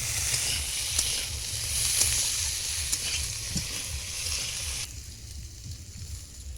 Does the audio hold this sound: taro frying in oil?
yes